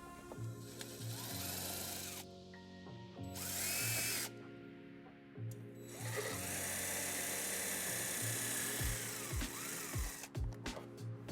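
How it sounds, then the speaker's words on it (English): A power drill bores two holes into the body ledge above the tailpipe of a 2006 Hyundai Tucson, heard as several close, loud whirring bursts with short pauses between them and no talking. "We're going to drill 2 holes so we can put a zip tie there and secure the wire."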